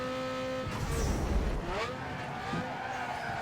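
A car in Need for Speed Underground 2 fires its nitrous boost, the engine surging into a loud rushing roar with a skidding whoosh, then settling back into a high steady drone, with no talk.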